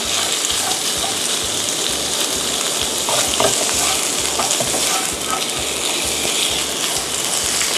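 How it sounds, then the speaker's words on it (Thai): Shrimp stir-fried with southern Thai curry paste in a hot pan, a loud, dense, continuous sizzle close up, with the rhythmic scrape and toss of stirring running through it and no talk. "เราจะเติมกุ้งลงไปนะคะ ผัดนะคะให้กุ้งสุกแค่ครึ่งเดียวก็พอนะคะ"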